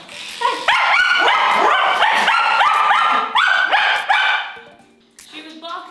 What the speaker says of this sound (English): She was barking right in my face and licking me at the same time.